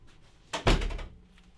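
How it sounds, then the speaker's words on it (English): A door closing in a comedic pickleball scene: one solid thump with a short rattle, fairly close and moderately loud against quiet room tone, without speech. "close the door"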